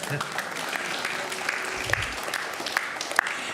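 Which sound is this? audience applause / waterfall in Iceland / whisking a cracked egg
audience applause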